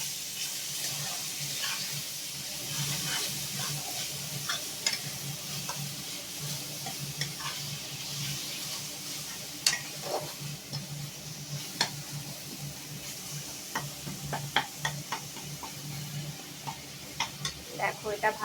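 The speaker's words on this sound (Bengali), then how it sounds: "দেখো, এটা ভালোভাবে ভাজা ভাজা হয়ে গেছে।" Ginger paste with a splash of water and spices frying in a pan, a steady soft sizzle with occasional stirring scrapes and clicks, while a person talks over it.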